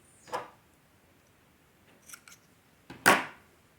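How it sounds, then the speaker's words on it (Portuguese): Scissors snip through crochet yarn in a quiet room, a few sharp, close clicks: one cut, a couple of small ticks, then a louder final snip. "aqui agora eu vou cortar o fio"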